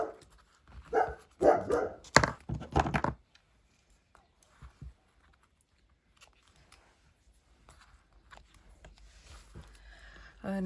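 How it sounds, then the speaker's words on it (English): A dog named Tony barks at birds tweeting in a tree outside a craft room, several loud close barks in a quick cluster, then quiet with faint scattered clicks and rustles. "barking at the birds because they're tweeting in the tree behind my craft room"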